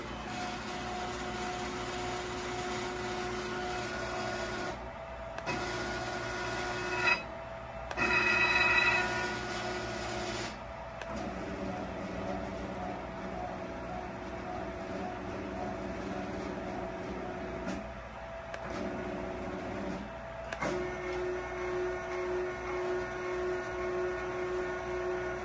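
A CNC-converted RF-30 milling machine runs on stepper drivers under Mach 3 control, giving a faint, steady whine with tonal pitches that shift between moves and several brief pauses between motions.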